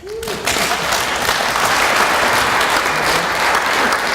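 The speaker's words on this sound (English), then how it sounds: "Everybody clap" An audience at an energy conference breaks into dense, even applause that holds at a steady level throughout.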